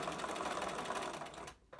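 A sewing machine runs steadily as it backstitches the seam of a fabric filter mask, a continuous fast mechanical whir that stops abruptly near the end, with no voices present.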